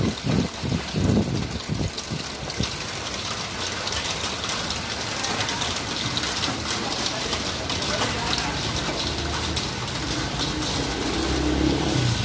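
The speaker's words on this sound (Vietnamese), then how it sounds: "Ngoài trời lúc này mưa dày quá mọi người ạ." Heavy rain pours outside around a parked taxi, a dense continuous hiss and patter on the car and pavement, with a low engine hum and a voice talking over it.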